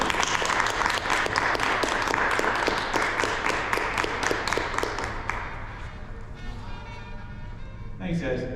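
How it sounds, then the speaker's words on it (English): An audience at a poetry reading claps loudly and steadily for a poet, the dense applause thinning out toward the end, leaving a short pause before a last burst of sound. "So please clap it up"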